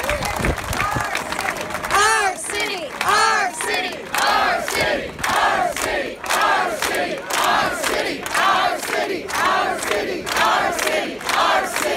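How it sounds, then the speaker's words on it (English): A rally crowd cheers and chants in rhythmic bursts, loud and sustained, with shouts and some clapping rising and falling across the whole stretch. "Let's hear it for Andrea again"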